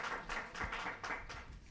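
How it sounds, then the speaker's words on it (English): A round of applause at the close of an end-term policy meeting, a short burst of steady clapping from a gathered audience, moderately distant and fairly soft, with no talk. "A round of applause for that, please."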